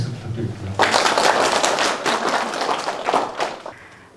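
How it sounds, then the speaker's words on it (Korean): Applause from the audience at an agricultural training lecture on growing high-quality Chamdongjin rice, a burst of clapping starting sharply and continuing for about three seconds before tapering off. "다시 한번 박수 부탁드립니다"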